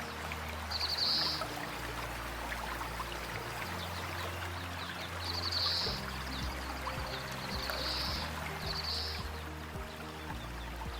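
Flowing stream near Tadcaster, a steady broadband wash of moving water heard close and continuous, with a few brief high bird chirps above it and no talk.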